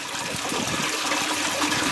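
Water gushing and splashing steadily as a disintegrating filter sponge is lifted out of a koi pond, a dense, close wash of dripping and pouring.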